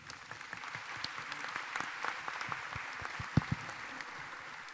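An audience applauds steadily, soft and somewhat distant, with individual claps standing out here and there through a continuous wash of clapping and no talking.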